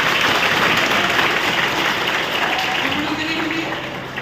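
A crowd at a college ceremony marking the start of a +2 science department gives loud, sustained applause. The dense clapping fills the whole stretch and fades slightly at the end, with a voice faintly audible underneath.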